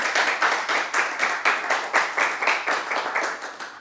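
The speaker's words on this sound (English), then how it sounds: "Let's clap." An audience at a doctoral defense claps in a brief burst of applause, rhythmic and steady, close and moderately loud with no talking over it.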